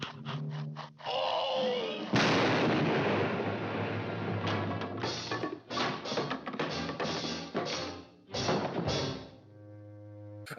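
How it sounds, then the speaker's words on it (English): A pirate ship blowing up in the 1948 Bugs Bunny cartoon Buccaneer Bunny: a loud roaring blast that rumbles on for a couple of seconds, followed by a run of sharp thuds and booms. "the ship explodes"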